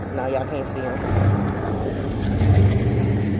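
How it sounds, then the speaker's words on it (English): A car with dual exhaust drives up nearby, its low engine rumble growing louder over a few seconds, heard under someone talking. "You hear them dual exhaust?"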